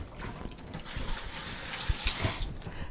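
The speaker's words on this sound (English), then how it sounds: "let me give a quick wash" Hands are washed under a running kitchen tap, a steady rush of water with soft splashing and a few light knocks.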